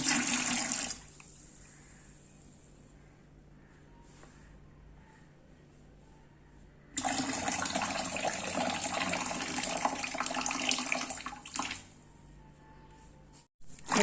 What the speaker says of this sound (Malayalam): ഈ വെള്ളത്തിലേക്ക് നമ്മൾ എടുത്തു വെച്ചിരിക്കുന്ന ഇതൊന്ന് ഒഴിച്ചു കൊടുക്കാം